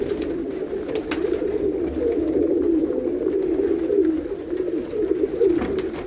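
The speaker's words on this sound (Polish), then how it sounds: "A to są gołębie." Racing pigeons coo continuously close by, a low throaty warbling repeated in waves, with faint clicks and rustles behind.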